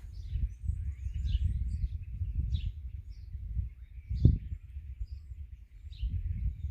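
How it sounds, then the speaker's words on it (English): Faint, short bird chirps repeat outdoors on a homestead, high and distant above a steady low rumble of wind, with one louder thump partway through. "Do you hear the birds?"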